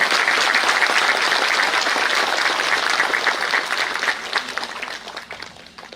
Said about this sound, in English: A big round of applause for everybody in the room.